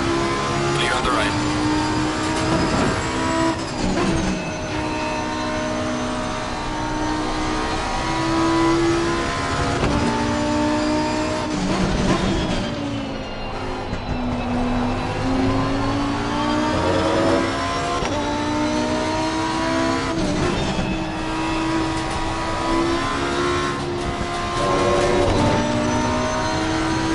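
Race car engines from a simulated endurance race at Kyalami roar and rev continuously, with several cars passing close by and shifting pitch, loud and sustained under occasional speech.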